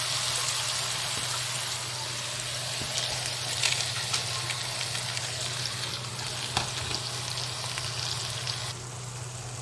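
Washed moong dal frying in a pan with roasted masala, a steady broad sizzle running throughout with occasional stirring scrapes and soft crackles, close and fairly loud, easing slightly near the end.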